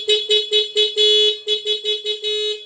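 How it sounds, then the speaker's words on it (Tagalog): A stock car horn honks in a rapid run of about ten short, close, loud blasts with a bright, buzzing tone, each briefly separated, one held slightly longer. "yung busina niya mismo"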